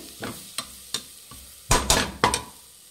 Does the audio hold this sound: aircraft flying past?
no